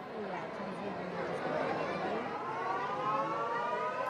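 A siren signalling the time to break the fast wails steadily at a distance over the murmur of a crowd at a shrine, with voices chattering throughout.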